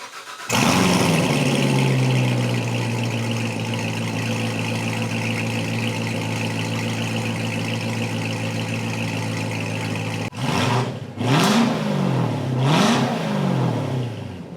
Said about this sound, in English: let's hear what this thing sounds like now with the downpipes